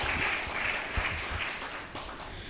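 An audience at a seminary jubilee celebration claps for the helpers, making a dense, sustained round of applause that fades slightly toward the end.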